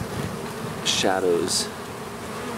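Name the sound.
bees buzzing on a wagon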